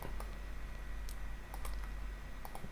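Rapid typing on a computer keyboard entering data into a Siemens CNC controller for turning and turn-mill work, scattered crisp key clicks over a steady low workshop hum, close and without talk.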